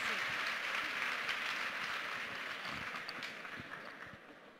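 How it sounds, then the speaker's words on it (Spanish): An audience at an architecture biennial event applauds as two guest speakers are welcomed, steady broad clapping that holds for several seconds and slowly tapers off, with a faint voice underneath. "fuerte ese aplauso"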